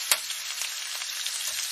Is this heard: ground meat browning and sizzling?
yes